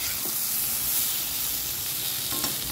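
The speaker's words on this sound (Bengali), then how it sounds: "এবার আমি দিয়ে দেব ফুটানো গরম জল।" Boiled hot water hits a hot pan of curry with potato and brinjal for chapila fish, producing a loud, continuous hiss and sizzle with faint clinks.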